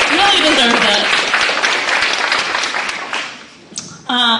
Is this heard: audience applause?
yes